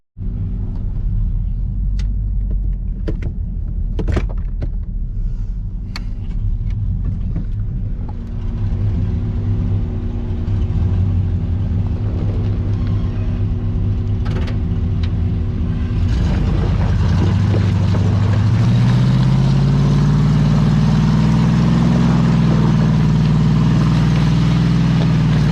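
A Chevy square body Suburban engine rumbles steadily and loudly while the truck backs up, then the revs climb into a rising, louder drone near the end.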